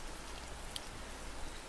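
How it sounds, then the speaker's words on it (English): Soft, steady rain patters down in the indie visual novel game Deluge, a faint, even wash of drops with no voices over it. "With each step you take, the rain pelts harder"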